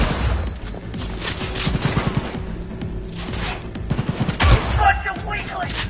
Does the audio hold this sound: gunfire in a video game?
yes